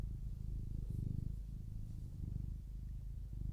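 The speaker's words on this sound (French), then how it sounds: "ce ronronnement." A cat purrs steadily and close up, a low rhythmic rumble with gentle pulses that continues throughout with no other sounds.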